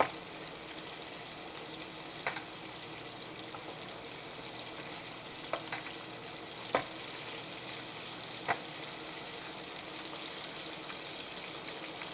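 Pork loin nuggets frying in a crowded pan of hot oil, a steady faint sizzle running throughout with a few soft clicks and taps over it, no voices.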